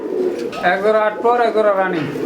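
Satin pigeons coo at a market, several low throaty rolling coos close by in quick succession.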